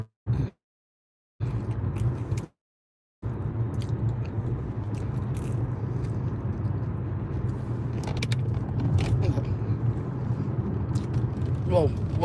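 Steady low interior rumble of a car on the road, continuous after two brief dropouts near the start, with faint crunchy chewing and small clicks on top while the driver eats.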